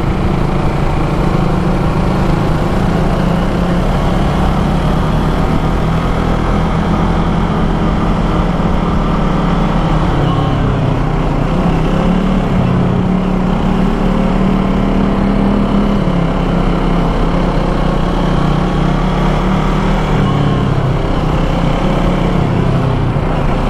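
A 2012 Kawasaki ER-6n motorcycle engine drones continuously and loudly throughout a test ride, its steady hum mixed with heavy wind rumble from riding at speed.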